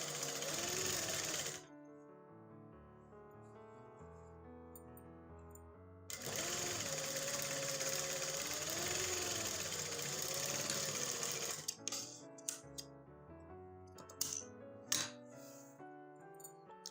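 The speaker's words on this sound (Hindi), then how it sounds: "ऐसे हमने किनारे पे सिलाई लगा" A sewing machine runs in two long stitching bursts along the edge of trouser fabric, loud and steady over background music, with short clicks and pauses between runs.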